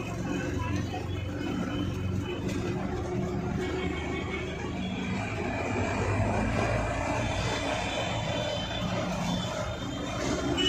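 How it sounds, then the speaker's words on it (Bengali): Inside a moving auto rickshaw on a city street, a constant rattling engine drone and road noise run throughout, with traffic sounds and faint voices mixed in. "আমরা এখন অটোতে উঠে গেছি"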